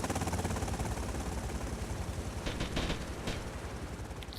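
Rapid automatic gunfire rattles continuously in GTA Vice City, a dense, steady burst of machine-gun shots running the whole time, loud and close, with a few sharper cracks near the end.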